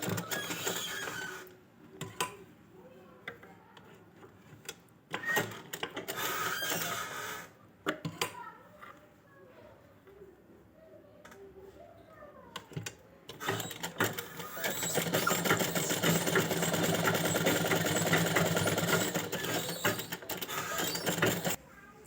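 A sewing machine stitches a fancy gown for a two-year-old girl in short, stop-start bursts of mechanical whirring at close range, then settles into a long, steady run of stitching.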